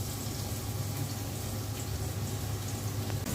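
Onion goes into a small amount of hot oil and fries with a soft, continuous sizzle, low in volume and steady, with no talking.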